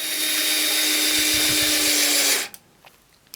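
A SKIL cordless screwdriver runs at high speed with a steady whine until its electronic clutch engages, cutting the motor off abruptly, followed by faint handling noises and near silence.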